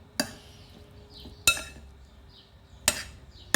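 A spoon mixes pizza sauce and cheese in a bowl, giving three sharp clinks against the bowl spaced about a second and a half apart, with quiet scraping between them.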